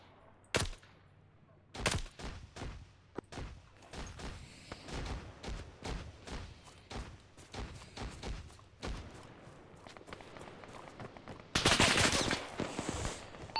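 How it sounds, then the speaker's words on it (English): A machine gun in Arma 3 fires repeated short bursts, loud and fairly close, with sharp isolated shots early on and a heavier, sustained burst near the end. "The machine gun is still active!"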